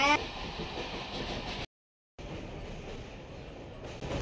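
Broadband rumble and rush inside a moving suburban train crossing the Bally Bridge near Dakshineswar, steady throughout with a brief dropout of silence in the middle, and a person talking over the noise.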